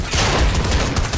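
A rapid burst of gunfire from the video game Fortnite, loud and dense over about a second, with booming shots running together.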